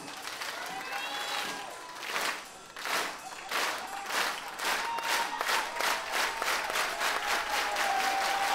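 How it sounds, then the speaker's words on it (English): A concert audience at a punk show at the House of Blues Sunset claps slowly for a band member, with evenly spaced claps speeding up into a steady rhythm over crowd murmur and cheers. "Can we get a slow clap for Yuri?"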